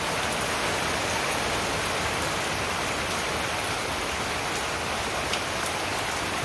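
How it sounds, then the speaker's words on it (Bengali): Heavy rain with big drops pours down steadily, a dense, loud, unbroken hiss of water hitting surfaces close by, with no voices. "কি বড় বড় ফোটা পড়তেছে।"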